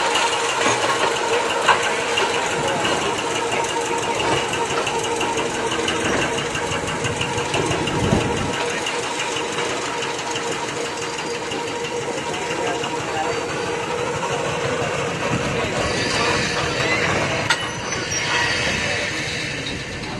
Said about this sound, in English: The 1005 is being pulled out of the car barn